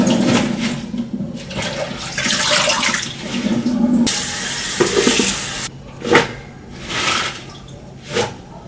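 Items being washed by hand under running water, with a steady broadband rush of flowing water and splashing that swells and cuts off, followed by a few brief sloshing bursts; no talking.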